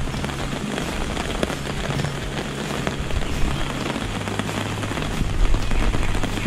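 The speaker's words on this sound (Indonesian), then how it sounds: "Dah hujan lama dah, 2 jam lebih dah hujan ni." Steady rain falls at a riverside campsite during a solo overnight trip in Gopeng, a dense, even hiss of drops on the surroundings with no talking.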